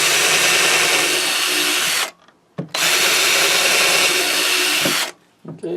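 Power drill with a freshly resharpened bit boring a hole in wood, a loud steady whine running about two seconds, a brief pause and short burst, then another sustained run of about two and a half seconds, ending with a short blip.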